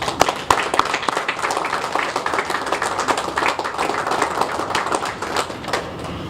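Audience round of applause at a city event marking a reduction in on-street homelessness, sustained crisp clapping from a crowd, fairly close and even throughout.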